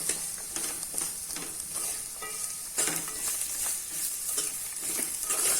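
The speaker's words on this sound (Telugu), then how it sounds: "ఉప్పు, అల్లం, వెల్లుల్లి పేస్ట్, కొబ్బరి అన్నీ మిక్స్ అయ్యేంత వరకు ఒకసారి మిక్స్ చేసుకుందాం" Salt, ginger-garlic paste and coconut frying in oil for a fish and tomato curry, a dense sizzle with repeated scraping strokes of a spoon stirring through the pan, close and steady with no talk.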